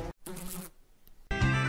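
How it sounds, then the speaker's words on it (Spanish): Flies buzz close to the ear outdoors at a camp on an island in Galicia, short loud whining bursts broken by brief gaps. "¡Putas moscas, coño!"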